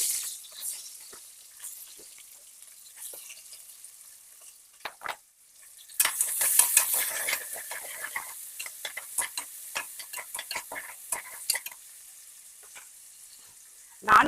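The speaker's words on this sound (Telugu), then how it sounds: "నాన్ వెజ్కి కానీ వెజ్కి కానీ ఎర్రగా ఈ ఉల్లిపాయలు బాగా వేగాలండి" Sliced onions sizzle and crackle in hot oil in a pan for a kodi kura chicken curry, a quieter frying hiss at first, then a louder burst of stirring with scraping clicks and spitting fat.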